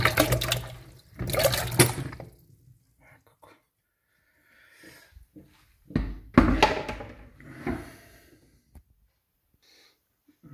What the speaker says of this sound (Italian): patate pulite, le mettiamo nell'acqua.